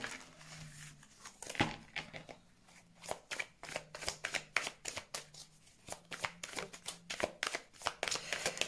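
Tarot cards shuffled for a reading, a long run of rapid riffling and slapping bursts in an uneven rhythm, close and fairly loud, with a low hum beneath.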